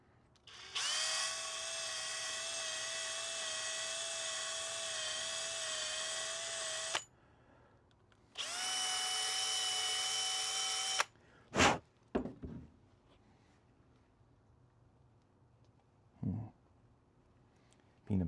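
Small power drill boring into a Bachmann K27 model locomotive, two sustained high whining runs of several seconds each, then a few short bursts, close and clear with quiet gaps between.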